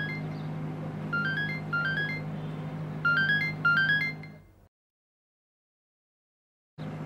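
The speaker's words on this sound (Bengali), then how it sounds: "তোমার ফোন।" A mobile phone ringtone plays a repeating bright melodic figure in short bursts over a low hum, stops abruptly, then silence before the background resumes.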